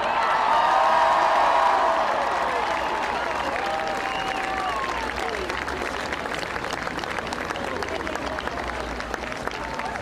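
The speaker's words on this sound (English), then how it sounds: "please join me in a round of applause" Crowd at an Alabama football national championship parade applauding and cheering, a dense continuous wash of clapping with whoops, loudest at the start and easing slightly while staying sustained throughout.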